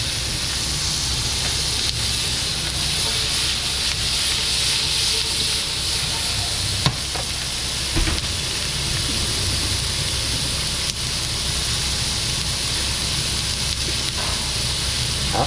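Butter sizzling in a hot pan while cooking surf and turf, a steady loud hiss with crackling pops throughout, joined by a few brief clatters of utensils.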